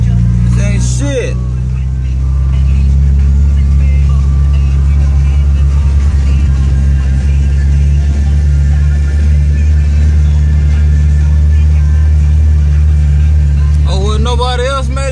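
A Toyota pushes through deep flood water on a Houston street, a steady low engine drone and churning water roaring loud throughout, with a voice speaking over it.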